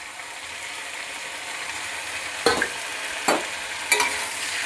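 Bottle gourd greens with green chillies, salt, turmeric and ginger paste being stirred in a sizzling pan, a steady frying hiss broken by three sharp scrapes of the spoon.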